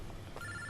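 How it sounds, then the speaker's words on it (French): A mobile phone rings indoors in a TV drama scene, giving a short electronic ringtone tone that rises clearly over a low room background. "c'est mon téléphone qui sonne."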